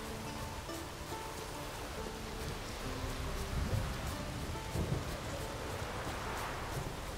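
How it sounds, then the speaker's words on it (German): Steady outdoor rain falling, a dense even hiss of drops with faint scattered taps and low rumbling underneath, continuous at moderate level throughout. "Die Druiden haben uns gewarnt, dass es regnen würde."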